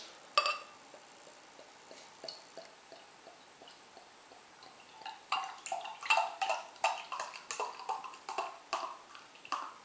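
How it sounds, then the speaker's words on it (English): Beer (Dugges Johannas Bästa) pours into a glass with a soft gurgle, followed by fizzing and a series of small clinks and splashes, quiet and close. "Pour it into the glass."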